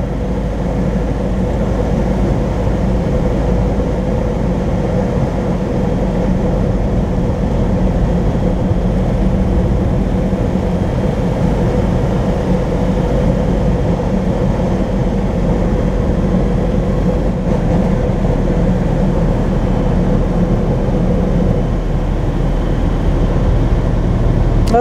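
A 1971 Mercedes 280 SE 3.5 Coupé, the restored top-of-the-line W111 coupe, cruising on the road with a smooth, steady engine drone and road rumble heard from inside the cabin, loud and even throughout.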